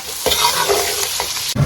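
Hot pot base stir-fried in hot rapeseed oil with scallion, ginger, garlic and chili, giving a loud, steady close sizzle broken by a few sharp spatula scrapes against the wok, with no talking.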